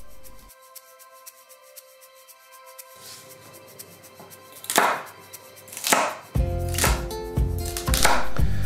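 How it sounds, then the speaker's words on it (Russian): A knife chops carrots on a cutting board in several sharp, uneven strikes, getting louder and more frequent toward the end, close by. "нарезаю морковку на несколько крупных частей"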